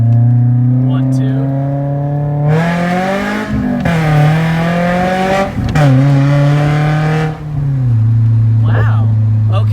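A BMW E36 fitted with a 4.44 differential pulls hard through the gears. A loud, close engine climbs in pitch, with two or three brief dips at the gear shifts, and a voice speaks over it.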